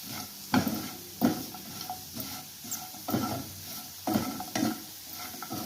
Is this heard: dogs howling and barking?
no